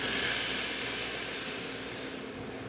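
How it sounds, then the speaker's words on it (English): A La Pavoni espresso machine's steam wand releases a loud, steady hiss of steam that holds for a couple of seconds and then eases off slightly toward the end. "let's go ahead and test the steam"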